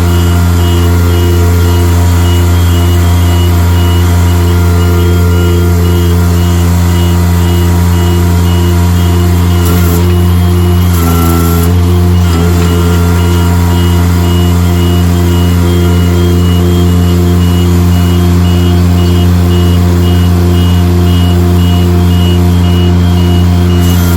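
A rented aerial lift is driven with a loud, steady engine drone and a regular reversing beep repeating throughout, close by.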